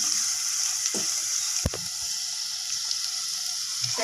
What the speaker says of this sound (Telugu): ఫ్రెండ్స్ కొద్దిగా పచ్చివాసన పోయేంత వరకు ఫ్రై చేసుకున్నాం